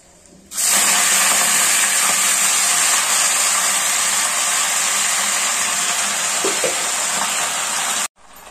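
Karadi (safflower) greens tossed onto garlic and cumin in hot oil, giving a sudden loud, steady sizzling hiss that holds for several seconds before cutting off.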